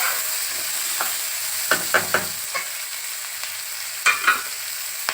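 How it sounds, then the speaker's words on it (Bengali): Onions fry in a pan with a pinch of salt for chicken soup. A soft continuous sizzle runs underneath, broken by several clinking stirring knocks of a utensil against the pan, with no talk. "পেঁয়াজটা যখন ভাজা করবেন তখন অল্প একটু নুন ছড়িয়ে দেবেন"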